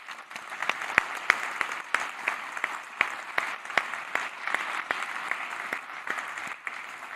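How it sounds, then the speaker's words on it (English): Audience applause at a Frankfurt School event, steady clapping from a crowd with sharp individual claps standing out, moderately distant and continuous throughout. "I think that's a big applause for their work."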